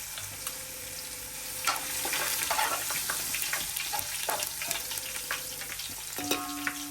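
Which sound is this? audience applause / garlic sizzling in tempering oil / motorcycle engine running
garlic sizzling in tempering oil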